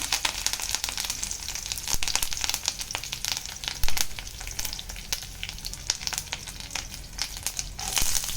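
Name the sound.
gram frying in a pan for paneer masala gravy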